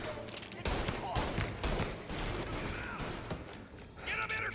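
Dense gunfire in the video game Mafia, a continuous fusillade of overlapping shots and bursts filling the whole stretch at a loud, steady level, with a voice talking over the barrage.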